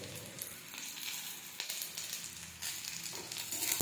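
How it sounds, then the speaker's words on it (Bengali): Capsicum added to onion sizzles in a hot pan, a close, even frying hiss punctuated by several sharp stirring scrapes. "এবার আমি দিয়ে দেবো একটা ক্যাপসিকাম"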